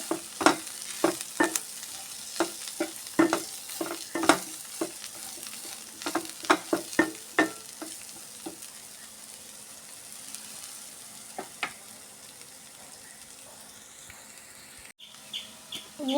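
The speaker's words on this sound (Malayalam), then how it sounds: "ആവശ്യത്തിന് കുറച്ച് മുളക് പൊടി വെയിലിട്ട് ഇളക്കി ഒന്നും കൂടി നന്നായി പൊന്ത് വരട്ടെ" Chili powder stirred into masala frying in a pan, with intermittent scraping clinks of a spoon against the pan over a steady sizzle that fades toward the end.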